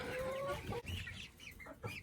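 Hens clucking and murmuring close by, a steady run of short clucks and squawks over a bit of background noise.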